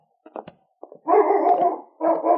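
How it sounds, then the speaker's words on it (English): A dog barks in an old-time radio drama set by a Yukon mine tunnel, a few short sharp barks followed by a longer loud run of barking and howl-like calls, close and clear with no talk. "Suddenly, King's bark announced that he had found his quarry."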